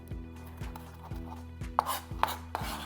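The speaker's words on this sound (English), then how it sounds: "these mint leaves I'm actually going to chop" Mint leaves are chopped with a knife in a steady rhythm of thick, soft thuds on a board, about six strokes, close and moderately loud, with a few brighter clicks in the second half.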